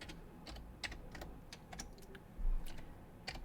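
Keys clatter on a computer keyboard as a command is typed at a terminal, with a run of irregular clicks and a few heavier strokes, close and clear over a low background hum.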